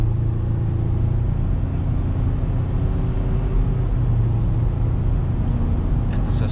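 A 2020 Ford Everest 2.0L bi-turbo Titanium 4x4 SUV floored from inside the cabin, a steady heavy low engine and road rumble that holds evenly throughout.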